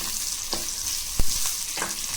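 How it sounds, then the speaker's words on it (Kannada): Steady, loud sizzling of onions frying in hot oil for vegetable sambar, with a few scraping stirs of a utensil in the pan. "ಸ್ವಲ್ಪ ಈರುಳ್ಳಿ, ಸ್ವಲ್ಪ ನೋಡಿ ಇದು ಚೆನ್ನಾಗಿ ಫ್ರೈ ಆಗಬೇಕು"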